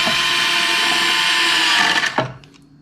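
A WORX WX242 cordless screwdriver drives a small screw, a loud close whirring buzz holding steady for two seconds before a sharp clack and the motor cutting off.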